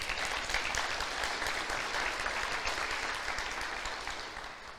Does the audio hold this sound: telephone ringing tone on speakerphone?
no